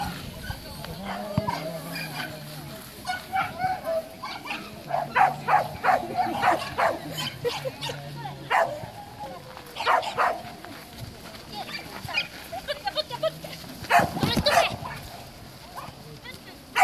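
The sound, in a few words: dog barking during agility run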